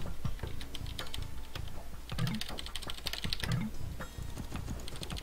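Someone types on a responsive computer keyboard, the clicks quick and irregular with small bursts of keystrokes, close by and fairly quiet, and no talking over them.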